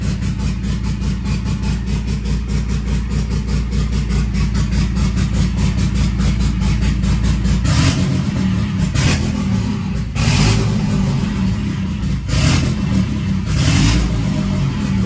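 A Ford Fiesta EcoBoost engine idles steadily, then revs up in several bursts in the second half, loud and close, with no talking over it.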